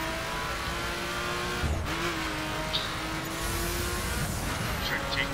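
A car driven in the video game The Crew, a steady engine drone with shifting revs and faint tire noise, continuous and close throughout.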